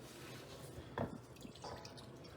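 Cooked meat fat being drained from a pot into a bowl, a brief, faint trickle and drip of liquid close by, with quiet room sound around it and no talking.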